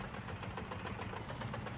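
A huge single-cylinder engine fitted to an otherwise normal car in BeamNG Drive, idling with a steady, rapid low chugging pulse, continuous and moderately loud with nothing else over it.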